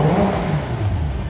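Nissan 350Z drift car with a forged 1JZ engine revving nearby, a loud, throaty engine note that swells and falls in pitch over a short burst.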